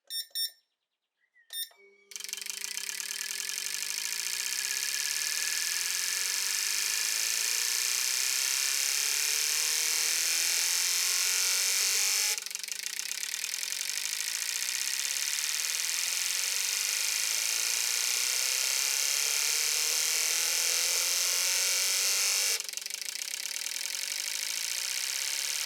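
A supercharged VR6 engine idles steadily, then revs up with a gruff, clattering, diesel-like tone, holding a loud drone that shifts pitch twice over a long stretch.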